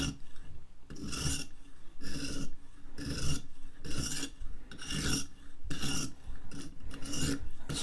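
A serrated knife is drawn repeatedly across a sharpener, giving close, loud rasping strokes in a steady rhythm of about six pulls, with no talking.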